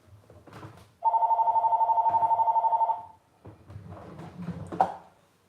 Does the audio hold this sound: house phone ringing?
yes